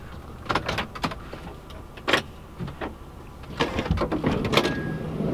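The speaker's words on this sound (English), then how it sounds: "let me get the door." A car door is opened in a parked vehicle, heard as a few sharp clicks and clunks of the latch and handle over a low steady engine or road hum, moderately close with no talking.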